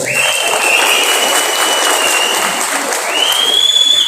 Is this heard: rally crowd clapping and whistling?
yes